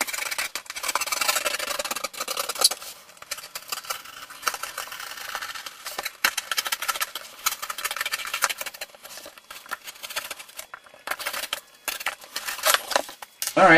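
A cardboard side template for a tape-and-box mega ramp is cut out close by, with irregular crisp crackling and rustling bursts and no talking.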